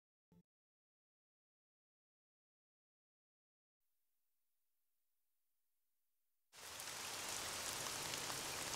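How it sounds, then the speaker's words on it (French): Heavy cartoon rain bursts in suddenly after a short click and a stretch of near silence, becoming a loud, dense, continuous downpour that fills the last few seconds. "Il pleut trop fort, on ne peut pas jouer dehors."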